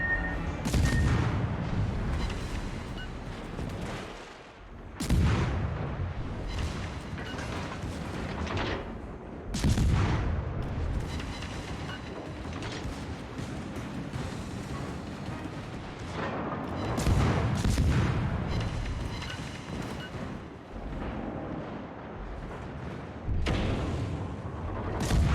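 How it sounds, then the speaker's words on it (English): Naval guns firing on an enemy cruiser in the World of Warships video game: repeated deep booming salvos, roughly every few seconds, rumbling low and loud with sustained ship engine noise between shots. "After I start firing on some enemy cruiser"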